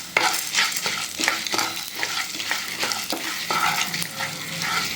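Urad dal sizzling and crackling in hot oil in a pan, a loud continuous fry with sharp spattering pops and stirring scrapes throughout.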